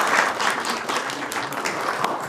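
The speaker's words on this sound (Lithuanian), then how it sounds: "Palinkime jai sėkmės labai stipriai plojimais" A studio audience on a Lithuanian TV game show applauds teacher Veronika, with dense, steady clapping that fills the whole moment at an even level.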